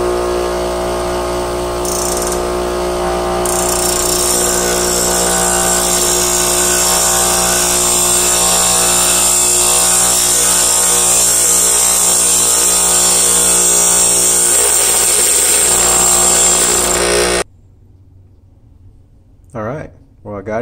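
A power tool grinds steadily on a part of a Traxxas XO1 RC car, a loud continuous high whine running for many seconds before cutting off abruptly. Brief faint sounds follow in near silence.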